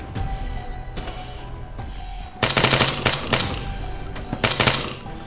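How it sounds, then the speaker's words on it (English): Bursts of automatic enemy gunfire in Arma 3, fired from a hidden position during an ambush on a special ops team. Rapid rattling volleys repeat over several seconds, growing louder in two heavy bursts near the end. "Enemy fire! Enemy fire!"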